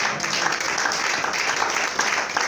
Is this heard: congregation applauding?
yes